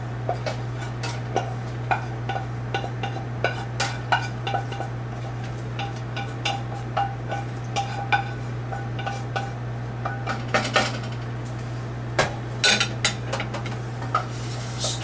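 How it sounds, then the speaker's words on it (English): Vegetables stirred into cooked couscous in a pot, a spoon scraping and clinking against the pot in an irregular rhythm over a steady low kitchen hum. "Stir that in."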